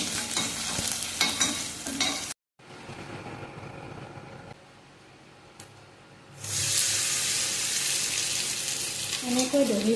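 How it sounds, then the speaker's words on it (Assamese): Curry leaves frying in hot oil for a dahi vada tadka, a loud steady close sizzle that drops out briefly, returns quieter, then surges back strong and continuous. "নৰসিংহৰ পাত ভালকৈ ভাজি ল'ম"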